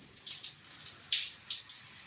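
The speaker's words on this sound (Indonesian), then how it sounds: "Nah, ini airnya keluar." Water runs from a shower head in a walk-in shower of a renovated industrial-style bathroom, a soft hissing spray with splashy, uneven pulses, fairly faint and steady with no voices.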